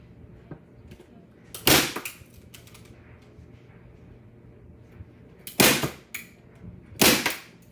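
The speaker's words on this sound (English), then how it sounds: "I usually put 3 staples in the back to hold it in place." Three sharp, loud staple gun snaps fixing a hanger to the back of a bow, one early and two close together later, with quiet handling noise between them.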